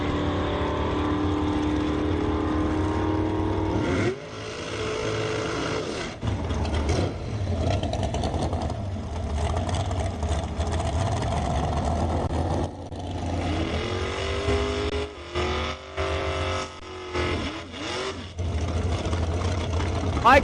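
AMX race car at a drag race ET finals, a loud engine droning and revving with shifting pitch sweeps and several brief drops, heard close under a steady background roar.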